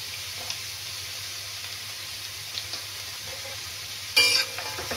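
Spices with cashews and almonds fry in a pan, giving a steady low sizzle, with a louder burst of crackling near the end, probably from stirring.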